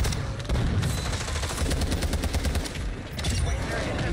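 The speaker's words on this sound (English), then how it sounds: "I called the airstrike where Vince is." A called-in airstrike in Call of Duty Warzone pounds the area with a dense, continuous barrage of rapid blasts and gunfire-like cracks, loud and close throughout with a brief dip near the end before the bombardment resumes.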